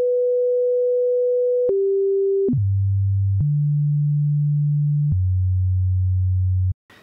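An FL Studio 3xOsc synthesized bass line steps through a few sustained low notes, each held about a second, clean and steady, with no other sounds.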